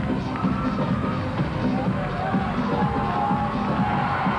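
A crowd at a women's college gymnastics championship cheers and shouts steadily throughout, a dense continuous roar with scattered whoops rising above it.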